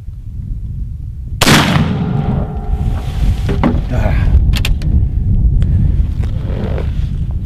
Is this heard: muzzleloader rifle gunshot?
yes